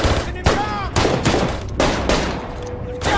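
Several loud bursts of gunfire crack in quick succession in a film bank-robbery shootout, with short gaps between volleys and a noisy, chaotic background.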